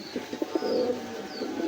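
An Indian Bombay pigeon coos near at hand, a run of soft, throaty pulses rolling into a longer warbling coo, with a faint high chirp above.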